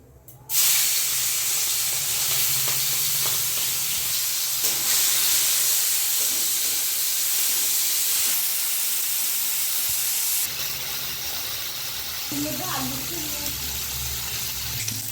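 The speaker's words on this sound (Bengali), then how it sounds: "তেল গরম হয়ে গেছে, আমি চিংড়ি মাছটা ভেজে নেব।" Shrimp drop into hot mustard oil in a pan, setting off a loud, continuous hissing sizzle that eases slightly partway through, with faint clatter near the end.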